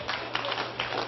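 An audience at a UFO conference applauding, a brief burst of dense, steady clapping from a crowd heard at moderate distance.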